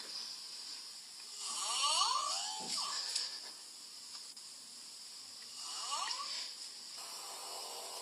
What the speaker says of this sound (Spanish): Veamos los diferentes tipos de ronquidos.